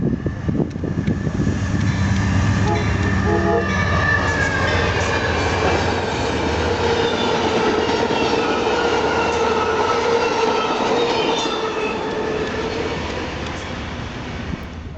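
A westbound Norfolk Southern intermodal freight train rolls past in Harrisburg, a loud, continuous rumble of wagons and wheels that holds steady close by for the whole stretch, with faint squeals and clicks on the rails.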